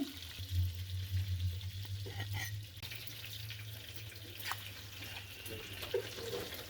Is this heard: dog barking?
no